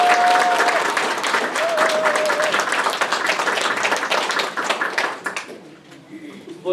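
Loud, dense applause from a crowd gathered at the opening of a National Assembly candidate's campaign office, sustained for about five seconds, then fading into scattered claps and quiet.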